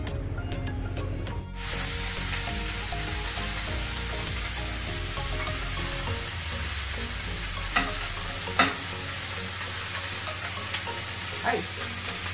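Fish fries in a hot pan for a calamansi fish soup, giving a steady crackling sizzle, with a few sharp utensil clinks and stirring scrapes now and then and no speech.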